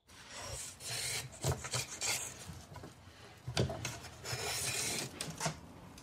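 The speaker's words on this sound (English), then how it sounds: "He shaves carefully while checking the thickness together." A blade shaving a bamboo bow, heard as close, dry rasping strokes in uneven bursts with brief pauses between them, no voices.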